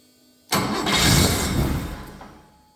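A 1968 Porsche 911L engine cranks and catches, firing up abruptly into a loud, rough roar that holds steady for about two seconds before settling and fading, close by with no talking.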